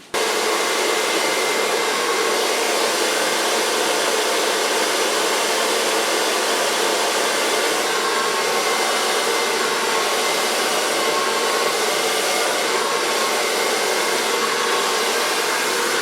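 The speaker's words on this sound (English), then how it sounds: "And go blow drying again." A hair dryer blows hair dry during a colouring and styling session, a loud, steady, unbroken whoosh that runs without pause.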